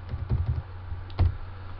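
A handful of quick, muffled keystrokes on a computer keyboard, a short burst followed by a pause and one or two more taps, close and quiet.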